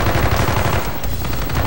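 Rapid, loud gunfire from an Enfield rifle in the Call of Duty Black Ops video game, a dense continuous burst of shots filling the whole moment with no talking.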